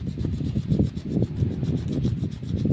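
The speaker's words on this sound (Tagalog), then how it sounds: "Ito pang stainless to eh, pampakinis." Polishing pad rubbing over stainless steel during a water pump repair, a close raspy scrubbing in quick uneven back-and-forth strokes.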